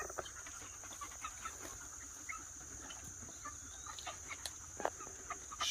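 Chickens in a front-yard homestead cluck softly and intermittently at a moderate distance, with scattered short calls over a steady high-pitched outdoor background hum.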